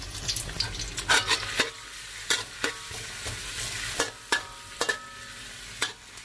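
Garlic and dried chili frying in hot oil in a wok, a soft steady sizzle broken by repeated sharp scrapes and clacks of a spatula stirring.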